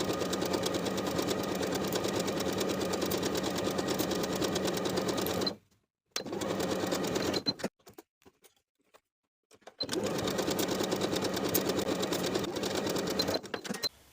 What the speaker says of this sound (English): Then we'll sew each of the side seams and each of the top seams with a 3/8 inch seam allowance